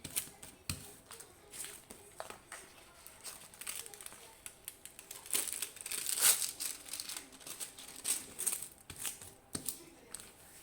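Paper crinkles and rustles close by in short bursts, with a few soft taps and handling noises between them.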